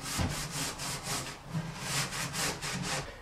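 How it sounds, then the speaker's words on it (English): A stainless steel scourer rubbed back and forth over an oven surface, close rhythmic scraping strokes in an even, repeating pattern, alone without speech. "And then I'm going to scour it, as you should be able to see."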